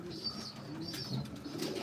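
Racing pigeons cooing softly, a few low throaty coos over faint background noise, no talking.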